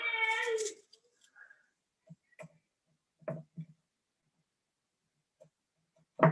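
A cat meows loudly from outside a closed room at the start, followed by faint scattered clicks and taps in an otherwise quiet indoor space, then another short sound at the end.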